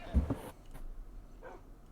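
A short burst of dog barking from Minecraft wolves, one or two sharp barks early on, then quieter background sound.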